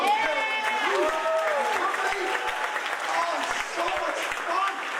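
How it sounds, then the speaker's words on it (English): An audience applauds loudly and steadily, with cheers and whoops rising over the clapping throughout. "Join me in giving a huge round of applause"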